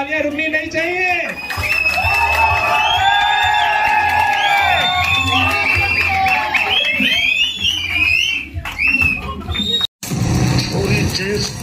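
A loud, dense crowd cheering and whooping with shrill whistles and applause, sustained throughout, with a brief cut near the end.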